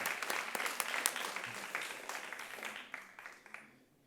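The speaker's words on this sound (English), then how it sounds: "Give yourself a round of applause." Applause from an audience at a museum talk, fairly quiet, with sharp individual claps at first that thin out and fade away toward the end.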